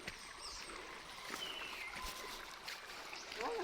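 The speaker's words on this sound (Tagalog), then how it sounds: "Ganda yung sapa dito. Mas malinis." A clean stream flows near Lukob cave in Toledo City, a soft, continuous trickle and rush of water heard faintly and without talk.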